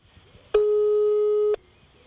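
One long, steady electronic tone of a telephone line, lasting about a second, from a call that goes unanswered; it sounds close and clean over a quiet background.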